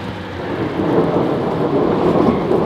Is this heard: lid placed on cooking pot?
no